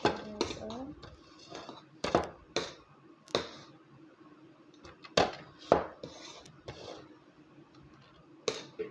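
Rice with mixed vegetables is scooped out of a pan, with repeated sharp metallic clinks and scrapes of a utensil against cookware in irregular bursts, close and fairly loud.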